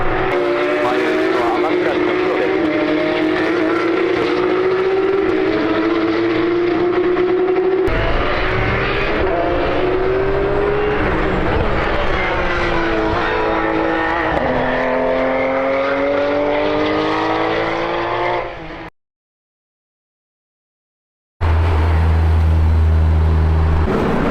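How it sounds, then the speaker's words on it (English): Loud engine roar of endurance race cars, including hypercars, passing on the track at Fuji Speedway during the 6 Hours of Fuji, rising and falling pitch as they sweep by, continuous for most of the clip with a brief silent gap. "Hearing these race cars go by in the background, so good."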